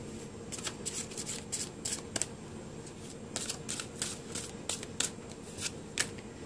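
Tarot cards shuffled and drawn by hand, giving soft, close riffling and flicking sounds in quick bursts with a few sharper snaps, over a faint steady room hum.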